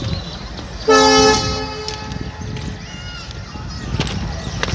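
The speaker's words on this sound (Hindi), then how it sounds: "ट्रेन आ चुकी है और ब्रिज संख्या 4 पार कर गई है" A full-coach inspection train approaching a station on the Nirmali railway line sounds its horn once in a loud, steady blast, then rumbles on amid background noise while someone talks nearby.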